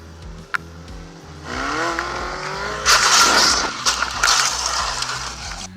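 A motorcycle engine revs up in sharp, abrupt bursts of throttle, rising and falling pitch with a harsh, aggressive tone over several seconds, close and loud.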